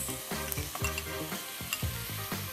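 Potatoes with garlic and onion sizzle and crackle in a hot pan, with repeated stirring scrapes at an uneven rhythm, fairly close and steady.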